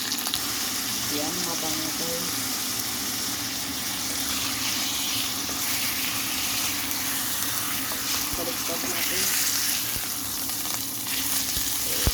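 Water poured into a hot pan where a whole fish has been frying sets off a loud, dense, continuous sizzle and bubbling hiss, close up and steady throughout.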